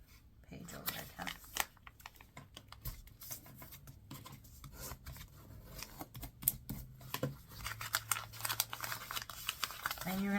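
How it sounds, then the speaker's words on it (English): Paper pages of a book being folded and creased into a candle-shaped Christmas decoration, with close, irregular rustling, rubbing and crisp crinkles, alongside someone talking. "fold the whole page over again"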